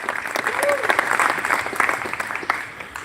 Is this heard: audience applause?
yes